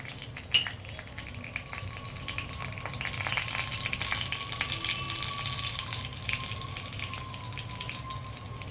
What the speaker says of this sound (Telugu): ఫస్ట్ వెల్లుల్లి వేస్తున్నాను ఆ వెల్లుల్లి కొంచెం వేడెక్కిన తర్వాత జీలకర్ర రావాలి వేస్తున్నానండి